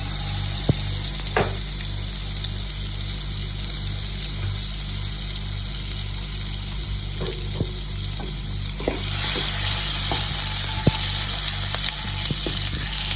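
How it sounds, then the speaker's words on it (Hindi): Butter melting and frying in a pan as the base for a white sauce for chicken lasagna: a steady, close sizzle runs throughout, with a low hum underneath and occasional soft clinks of a utensil. "उसके लिए सबसे पहले हमने पैन में ले लेना है 1 टेबल स्पून भर के मक्खन।"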